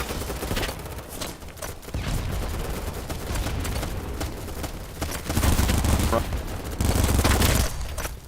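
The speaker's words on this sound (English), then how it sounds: "they're just shooting there because there's people shooting back at them" Sustained bursts of automatic gunfire and scattered shots from a BattleBit firefight, loud and dense throughout, swelling into heavier volleys near the end, with occasional talk underneath.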